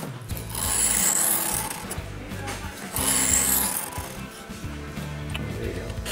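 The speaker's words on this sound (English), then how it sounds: "Just gonna continue to refine the edge up the grit scale." Knife blade drawn repeatedly across the fine grit of a Work Sharp field sharpener, giving steady abrasive rasping strokes in two longer passes, fairly close with some background hum.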